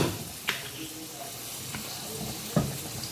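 Olive oil sizzling in a cooking pan at low level, with a steady faint hiss and a few sharp clatters of a utensil against the pan.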